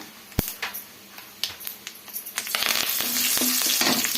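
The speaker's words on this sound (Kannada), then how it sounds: "ನಾನು ಬ್ಯಾಡಿಗೆ ಮೆಣಸಿನ್ಕಾಯಿ ತಗೊಂಡಿದ್ದೀನಿ ಫ್ರೈ ಮಾಡಿಕೊಂಡು ಸ್ವಲ್ಪ ಕರಿಬೇವು ಸೇರಿಸ್ಕೊಳ್ಳೋಣ" Dry Byadagi red chilies and curry leaves frying in hot oil in a pan, scattered crackles and stirring taps swelling into a loud, steady close sizzle.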